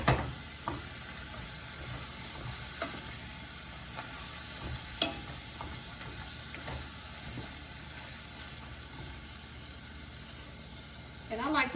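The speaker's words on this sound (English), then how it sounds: "And then I'm going to brown this turkey. Browning the turkey" Ground turkey browning in a frying pan for chili, giving a soft, steady sizzle with occasional clinks and scrapes of stirring, fairly quiet throughout.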